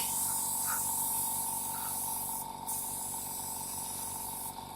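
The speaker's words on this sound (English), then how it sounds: "So I'm going to airbrush around the back of his neck." Airbrush spraying colour onto a sugar cake pig figure, a continuous close hiss of fine spray running steadily with brief pauses and a constant compressor hum underneath.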